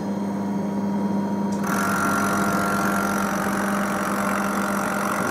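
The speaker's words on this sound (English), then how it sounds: "it's going to get even noisier as I turn on the air assist pump" A K40 laser cutter's air assist pump switches on partway through, adding a steady, loud broadband hiss and hum over the machine's constant mid-pitched drone, with no voices.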